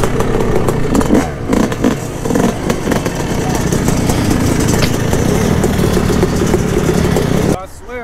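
A dirt bike engine revs and drones loudly and close on a neighborhood street, its rough buzzing steady throughout, and it cuts off abruptly near the end.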